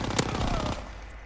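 A submachine gun fires a short rapid burst in Call of Duty WWII, a sharp crack followed by a tight rattle that cuts off within about a second.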